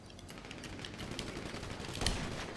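Rapid, dense bursts of sniper gunfire from GTA Online fill the whole stretch at a steady loud level, with one sharper, heavier shot near the end standing out above the rest.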